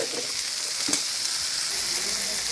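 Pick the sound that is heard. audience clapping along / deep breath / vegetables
vegetables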